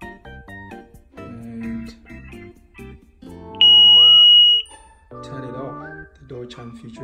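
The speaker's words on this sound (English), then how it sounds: "if you open any of the door, you'll hear the fast beeping like that." An ADT alarm system panel sounds a sustained high beep tone among rapid chime notes and melodic fast door-chime beeps as a door opens, loud and close, without speech.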